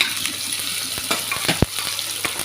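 Cashews, fennel seeds and poppy seeds fry in hot oil for a chapati kurma, giving a steady close sizzle with a few sharp crackles and pops, no voices.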